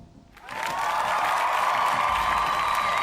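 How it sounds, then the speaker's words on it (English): Applause from the video game Panzer Dragoon Saga on Saturn begins abruptly after a brief quiet moment, then a dense, steady crowd clapping and cheering sound holds at a loud, even level. "that was a short round of applause"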